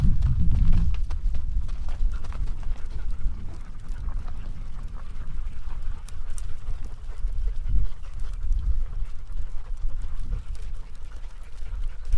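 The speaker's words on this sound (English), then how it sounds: "That's that running dog, Bosco." A dog running along a desert mountain trail while tracking a rabbit pants steadily amid continuous outdoor rumble and rustling, with footfalls on dirt and no clear voices.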